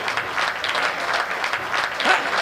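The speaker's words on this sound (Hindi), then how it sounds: "तालियों के महोत्सव से बता देना" Audience at a Hindi comedy poetry show (hasya kavi sammelan) applauds steadily, a dense, even wash of clapping from a nearby crowd lasting a couple of seconds.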